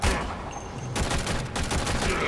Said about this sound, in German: Mit der Pistole drauf. Ach, soll ich ihn einfach abknallen?